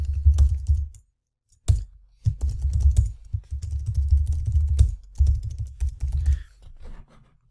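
Close, steady typing on a computer keyboard as an email address is entered, rapid clicking bursts broken by two brief pauses, with no voice.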